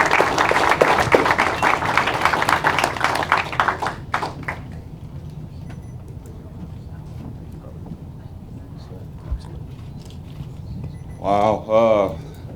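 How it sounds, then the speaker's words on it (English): An audience at a Louisiana Sports Hall of Fame inductee press conference claps and cheers for about four seconds, then the applause dies away into near silence before a brief voice speaks at the end. "it never gets old, the cheers and the claps"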